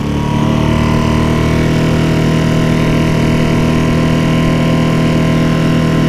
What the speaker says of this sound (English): I'm gonna start with half throttle with the current.